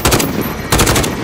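Rapid automatic gunfire in Call of Duty Modern Warfare Warzone Plunder at an airport, loud bursts in two dense volleys with no talk over them.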